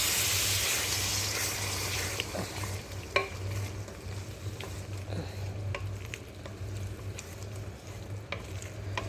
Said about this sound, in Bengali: অল্প করে দিয়ে কষাই নেব সুন্দর করে মশলাটা